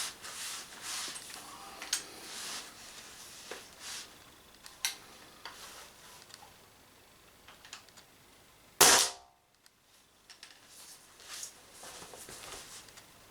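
A single muffled shot from an Umarex HDP50 pistol fitted with a silencer, a short soft plop amid quiet handling noises and faint clicks.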